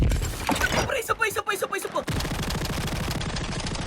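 Video game gunfire from a powerful rifle: clicking, staccato shots at first, then a dense, continuous burst of rapid automatic fire, loud and close.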